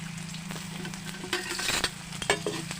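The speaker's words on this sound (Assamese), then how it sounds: "এতিয়া মই পিঁয়াজ দি দিম।" Onions frying in a pan alongside fish in a home kitchen, a steady hiss with a low hum underneath and several bursts of louder crackling and stirring clatter, no voices.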